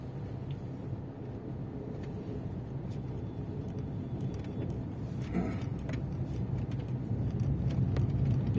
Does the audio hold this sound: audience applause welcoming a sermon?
no